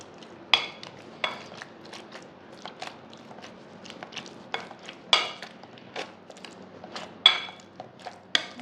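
Soft cooked plantain is mashed with a small kitchen utensil, giving repeated close, squelchy presses and scrapes at an irregular pace, with no talk.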